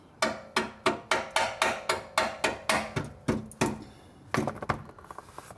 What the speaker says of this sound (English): So I will gently try to hammer this.